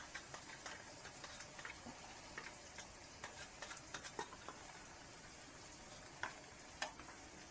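Ginger garlic paste frying lightly in a pan while making Chettinad chicken masala, a soft steady sizzle with scattered small pops and ticks, fairly quiet and without voices.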